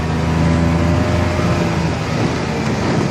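A restored 1971 Harley golf cart engine runs at full throttle over bumpy ground with a loud, steady droning roar and a rough low-pitched hum that holds constant throughout.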